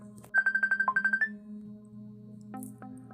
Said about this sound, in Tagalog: Tunog ng phone ng auntie ko.